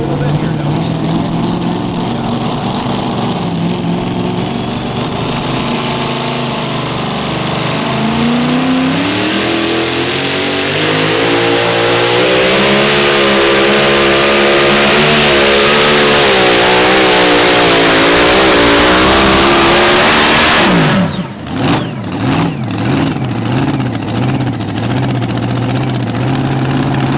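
Mini Rod pulling tractor roaring down the dirt track at a tractor pull in Nashville, Illinois, engine screaming and climbing in pitch under a loudspeaker announcer, then cutting off sharply near the end.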